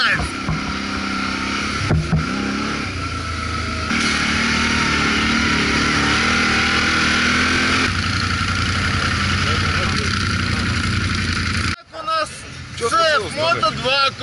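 Several ATV quad bike engines run steadily at night on a dusty track, a loud continuous close drone with shifting pitch while people talk over it, then the engine noise cuts out and chatter takes over near the end.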